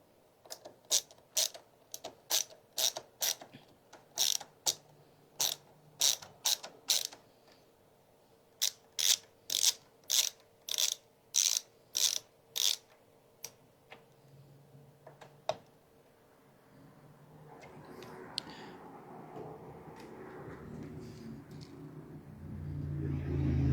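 While a PC is being built, a part is screwed in with a ratcheting driver that gives a long series of sharp, evenly spaced clicks in two bursts, followed by softer handling noise and a rising low rumble.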